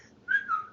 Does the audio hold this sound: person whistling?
yes